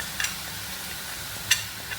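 Turmeric, salt and cumin powder going into a hot pan of oil for raw banana kofta curry, giving a steady even sizzle broken by a couple of light spoon taps, close and continuous, with no talk.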